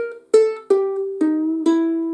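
Ukulele playing a short blues run in C: a plucked note bent upward, a next note, then an open second string. The notes are close, clear and unaccompanied, with about five distinct plucks, each ringing and decaying.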